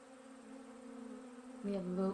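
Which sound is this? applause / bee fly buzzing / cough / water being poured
bee fly buzzing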